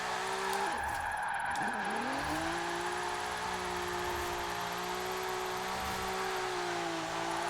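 A roughly 600-horsepower Nissan 300ZX drifts sideways uphill in Forza Horizon 4, its engine holding a steady, strained drone while tires squeal continuously, with a brief dip early before the note settles and sustains throughout.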